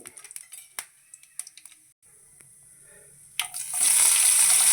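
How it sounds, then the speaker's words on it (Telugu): Mustard seeds, cumin and black gram and chana lentils hit hot oil, first with scattered sharp crackles and pops, then a quiet pause, before a loud, steady sizzle swells up and holds to the end. "ఆయిల్ వేడెక్కిందండి ఆవాలు వేసాను అలాగే కొంచెం జీలకర్ర అండి కొద్దిగా మినప్పప్పు కొంచెం పచ్చెనపప్పు"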